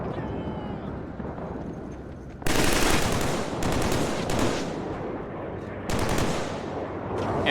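Sustained bursts of MG3 machine gun fire in the shooter game Killzone 3, loud broadband rattling that starts abruptly and runs in two long bursts with a brief break, while a voice talks faintly beneath.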